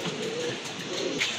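A Chinese Owl satin pigeon coos softly in a bird-selling setting, a low murmuring coo close by with faint background noise.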